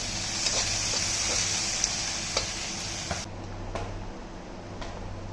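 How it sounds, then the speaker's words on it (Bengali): Chopped raw onions fry in a pan with a steady, close sizzle, joined by occasional light stirring clicks; the hiss quiets somewhat partway through, with no voices over it. "কাঁচা পেঁয়াজ পেঁয়াজ কুচি লাল লাল করে ভেজে নেবো"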